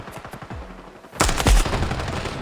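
Gunfire in a competitive shooter video game: a sudden loud burst of rapid shots erupts after low rumbling and light movement sounds, with a second heavy blast shortly after, then continuing dense reverberant noise.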